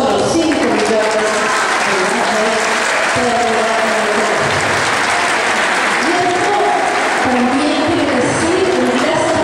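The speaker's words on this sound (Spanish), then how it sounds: "Y este año nos merecemos un aplauso porque tenemos solo 5 millones." Loud, dense audience applause at a public accounts address fills the whole stretch, sustained and close, with crowd murmur mixed in and no speech.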